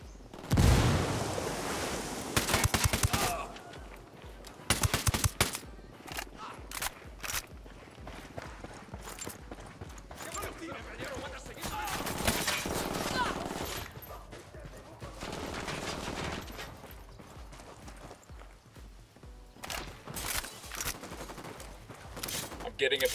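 Repeated bursts of gunfire ring out in Ghost Recon Wildlands, sharp volleys and single shots spread unevenly through a busy combat scene, with talk in between.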